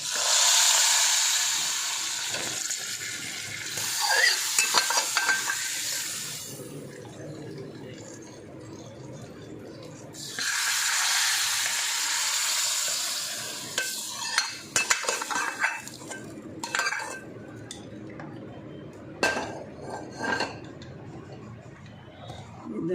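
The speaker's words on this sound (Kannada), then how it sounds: "ಕುದ್ದ ನಂತರ ಇದಕ್ಕೆ ಒಗ್ಗರಣೆ ಇದ್ದೀನಿ" Spices for idli sambar tempering crackle and sizzle in hot oil, with two long bright hissing bursts separated by quieter stirring and spoon clinks; close and fairly loud, no voices.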